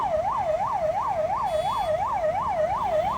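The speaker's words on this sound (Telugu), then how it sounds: "అంబులెన్స్ ఇండికేటర్ కొట్టుకుంటున్నది తెలంగాణ ప్రభుత్వం అనే అంబులెన్స్ ఇది చూడండి" An ambulance siren wails in a steady rapid up-and-down cycle, loud and continuous, while the vehicle sits stuck in a traffic jam on a city road near a bridge.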